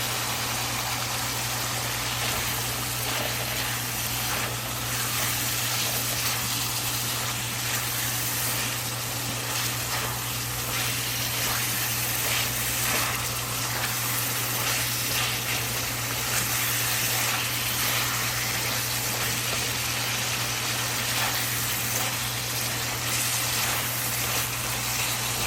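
Fish frying in a pan with oil, a constant dense sizzle and crackle that holds steady throughout, close and fairly loud, with a low steady hum underneath.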